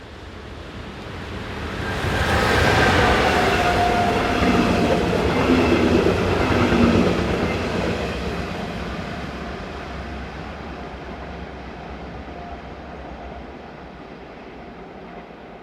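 Electric locomotive 146113 hauling a local train from Karlsruhe passes by, a swelling rush of wheels and rail noise that peaks loudly, then fades gradually into the distance.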